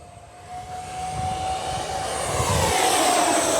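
An F-15 Eagle with twin 64mm fans roars at full throttle. The loud, continuous engine roar swells steadily and carries a high whining tone over the broad rushing noise.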